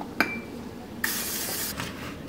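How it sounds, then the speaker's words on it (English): Cooking spray is sprayed down onto two 12-cup muffin tins, a sharp clink of the can followed by a steady hissing burst of spray, up close in a quiet kitchen. "and spray them down"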